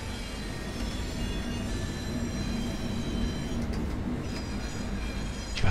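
Vossloh G6 diesel locomotive shunting wagons at Hamburg harbour in Train Simulator 2020: a steady engine drone with rolling rail noise and brief wheel squeal, continuous and fairly close, with no talk.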